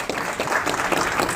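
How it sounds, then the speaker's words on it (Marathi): Audience applause at a formal ceremony after a lamp-lighting ritual: a short burst of steady, dense clapping from a crowd, fairly distant and even. "जोरदार टाळ्या."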